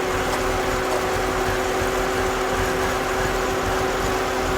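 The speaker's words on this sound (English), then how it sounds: "And there we go. Engine running really rough." Car engine idling roughly with an intermittent loss of power, a steady continuous drone with a persistent tonal hum, heard alone and fairly loud without talk.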